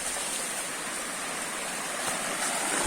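Continuous roar of rushing water from Napittachora waterfall in Sitakunda, swollen after rain, a dense, even wash of sound with no voices.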